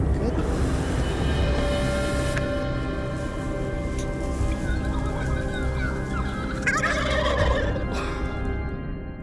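Wild turkeys gobbling outdoors, a loud rattling gobble bursting out late in the clip over a busy ambient background, with a narrator talking throughout.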